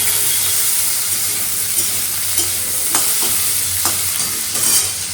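A cabbage and potato curry with small-cut potatoes cooks in a pan, giving off a loud, continuous hiss and sizzle with faint scraping stirs now and then.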